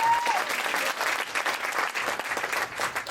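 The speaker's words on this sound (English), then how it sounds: "Big applause for Dr. Troy, please." A hall audience at a training event breaks into steady applause for a guest, dense continuous clapping with no one speaking over it.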